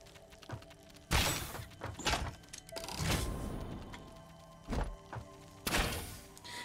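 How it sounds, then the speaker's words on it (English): Rebar gun firing in Satisfactory, a handful of heavy thudding shots spaced a second or so apart, each a sharp loud impact with a short tail, over quiet game ambience. "the rebar gun is not good for these guys"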